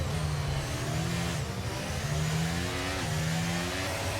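Formula 1 car engines scream in a racing video game at the start of the Saudi Arabian Grand Prix, a loud continuous high-pitched whine climbing through repeated quick gear shifts, with no speech.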